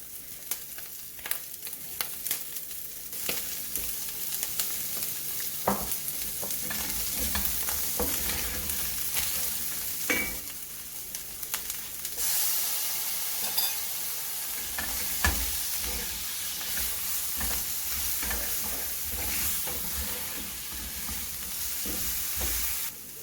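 Onions, chilies and garlic sizzling in a hot pan while being stirred, a continuous crackling hiss broken by frequent utensil scrapes and taps, close and steady throughout with no speech.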